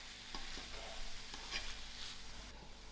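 Tomatoes with seasoning cook in a pan for lamb-stuffed peppers, a quiet steady sizzle broken by a few soft scraping stirs, no one speaking.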